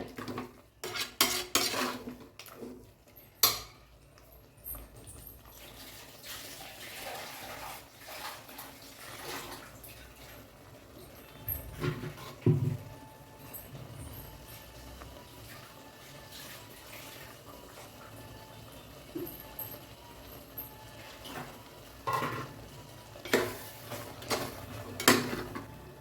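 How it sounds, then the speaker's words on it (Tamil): Clattering dishes and a mixer grinder jar knocking against a sink while water splashes and runs, with sporadic louder clanks throughout and no talking. "இப்போ மிக்ஸி ஜாரை வாஷ் பண்ணி எடுத்துக்கலாம் குழம்புக்கு"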